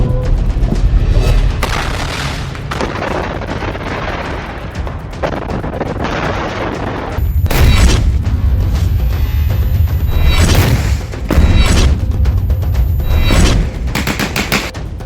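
Explosions strike Israeli tanks in Gaza with heavy booms and bursts of gunfire. The blasts are loud and repeated, with sharp impacts over a continuous rumbling din, and no voices are heard.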